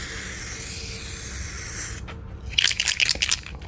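A rattle can sprays a thick coat of paint onto a 1985 C4 Corvette, with a close hiss that cuts off briefly and then returns in short sputtering bursts.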